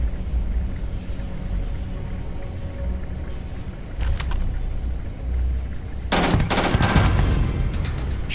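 Rapid automatic gunfire from a Starfield space-combat game, bursts loud and close: steady rattling fire, a sharp burst near the four-second mark, then a dense, heavy volley from about six seconds to the end.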